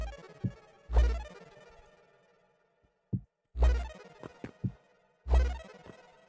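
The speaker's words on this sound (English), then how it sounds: "That is the sound of regular Joe, or Joe Regular, either of the two of them, teleporting away in the tower" Teleport sound effect from the video game Heartbound: three repeated synthetic bursts, each with a deep thump and a bright tonal swell, separated by short quiet gaps and small clicks.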